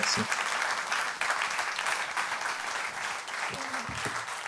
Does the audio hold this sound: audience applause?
yes